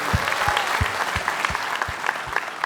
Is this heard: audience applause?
yes